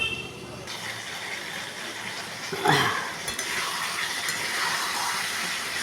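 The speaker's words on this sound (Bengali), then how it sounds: "পটল কষানো হচ্ছে, এখনো হয়নি" Pointed gourd sautéing in a pan, a constant frying hiss with stirring scrapes and a louder scrape or clatter partway through, heard up close with no talking.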